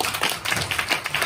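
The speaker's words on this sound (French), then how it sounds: "je voudrais que nous l'applaudissions" Scattered hand claps from a hall audience during a special radio broadcast event, a brief, fairly soft ripple of applause with no voices.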